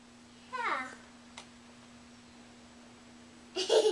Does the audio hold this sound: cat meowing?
yes